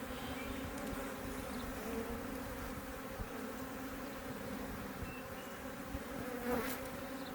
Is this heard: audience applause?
no